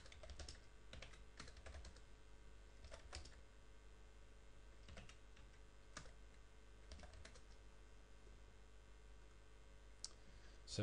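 Someone types a license key on a computer keyboard, a run of quick, close clicky keystrokes in irregular bursts over a low room hum.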